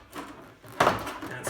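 A Honda Pilot door panel is pulled away from the door, giving one sharp plastic pop partway through, with faint rustling handling around it.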